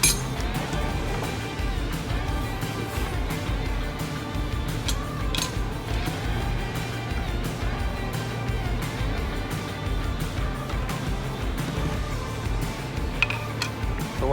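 A steel pry bar clinks and taps against a motorcycle shock absorber during a repair. Scattered metallic clinks sound close over a steady workshop background hum, with no voices.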